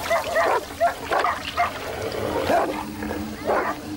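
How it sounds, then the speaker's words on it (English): Several dogs bark and yip in quick, overlapping bursts while attacking a cobra, close and loud over a rough outdoor background. "With sharp claws and powerful teeth, the dogs are formidable enemies."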